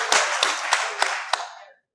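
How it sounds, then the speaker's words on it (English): An audience claps for members of the media at a forum, a dense burst of hand clapping with a few sharper accented claps standing out, then cutting off abruptly into silence. "Can we clap for them?"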